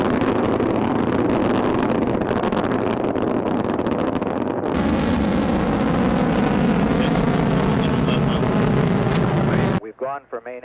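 Crewed rocket lifting off, a dense, loud, continuous roar with broad rumble that swells and holds for about ten seconds before cutting abruptly, followed by brief radio chatter.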